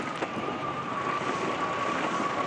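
Steady wind noise roars across the water during an America's Cup Challenger Playoffs semi-final sailing race in gusts of around 21 knots, a continuous broadband rush with a faint whistling tone running through it.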